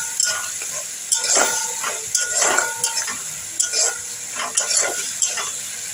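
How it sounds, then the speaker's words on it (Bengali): Spice masala stirred with water in a pan for daler borar jhal: repeated scraping strokes of a spoon against metal over a soft sizzle, close and steady, no talk. "জল দিয়ে আমি এইভাবে নেড়ে নেব।"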